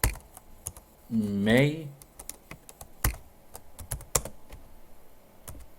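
Typing a command on a computer keyboard during network switch configuration, with scattered sharp key clicks around a brief spoken word.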